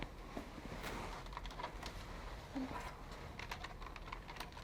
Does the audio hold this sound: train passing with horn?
no